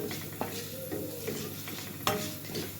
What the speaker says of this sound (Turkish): Arpa şehriyeleri önce sıvı yağda kavuruyorum.